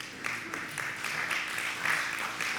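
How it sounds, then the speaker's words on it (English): An audience claps steadily at a Chanukah talk, with dense, moderately loud applause that keeps on without pause and has no voices over it. "I don't want you to clap for that."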